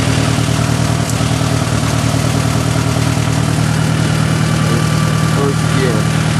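A 1965 Case 430 farm tractor engine with a 12-speed triple-range gearbox, starting off and pulling away in first gear, a steady close, loud, throbbing idle-like chug that continues evenly throughout.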